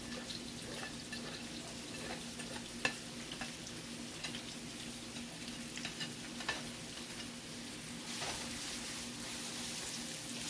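Onions and cabbage stirred in a frying pan, a steady soft sizzle with faint scraping of the utensil, low and continuous, with no voices.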